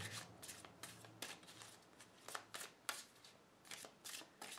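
Quiet, close riffling bursts of tarot cards being shuffled, repeated in an irregular rhythm with short pauses between.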